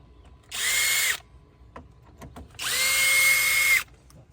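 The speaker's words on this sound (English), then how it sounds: "now I'm going to take these two Phillips head screws off so I can get this plastic cover off" A cordless power drill spins out two Phillips head screws from a plastic cover on a Scion xB, giving two sustained whirring bursts with a brief pause between, close and loud, with faint handling clicks in the gap.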